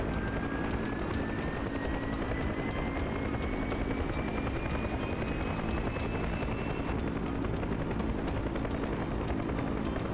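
Military helicopter in the flight simulator DCS World, a steady loud roar of engine and rotor with rapid rotor chop and a faint rising whine, continuous and close throughout.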